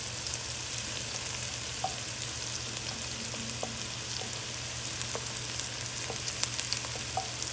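A roux of butter and flour cooks in a pan, giving a steady dense frying hiss with scattered small pops and light stirring taps, no voices.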